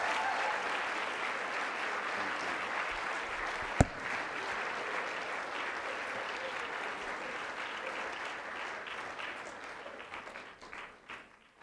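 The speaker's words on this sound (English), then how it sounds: "Let's give her a round of applause." Loud, sustained applause from a large crowd at a university keynote, with one sharp bump partway through, gradually thinning out toward the end.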